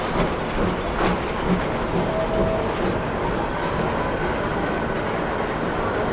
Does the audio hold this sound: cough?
no